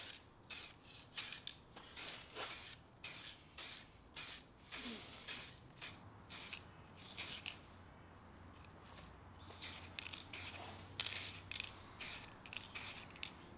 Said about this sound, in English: It seems that this rattle can is working perfectly